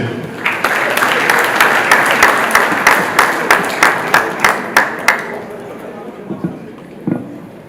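Rhythmic clapping from a crowd at a ceremony, a dense burst of applause that settles into evenly spaced, sharp claps before fading out, followed by a few scattered claps near the end.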